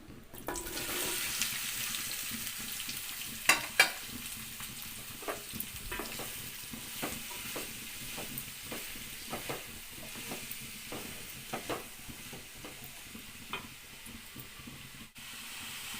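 Onion and green chilli frying in oil with tempering spices for a curry, a low steady sizzle broken by repeated spatula scrapes and taps against the pan.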